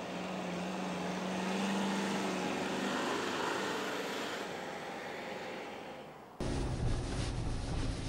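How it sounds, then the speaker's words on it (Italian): A 2016 Subaru Forester engine pulling hard under full throttle on an uphill road, a steady broad roar mixed with wind noise that shifts abruptly near the end. "Adesso affondiamo tutto l'acceleratore e vediamo un po' come si comporta questa Forester."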